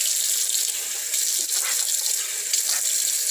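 Cold water runs steadily from a kitchen tap into a sink while taco meat is being cooked, a continuous close, bright hiss and splash without pause.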